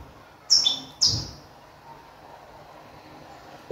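A songbird at a singing competition gives two bright, sharp chirps in quick succession, falls quiet for a long pause, then starts another brief call at the very end.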